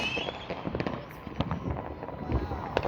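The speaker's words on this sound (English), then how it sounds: "That is our first firework." Fireworks bursting at a firework airshow, with a string of sharp pops and crackles of varying loudness in an open-air setting, some louder bangs standing out, while a crowd murmurs and people talk in the background.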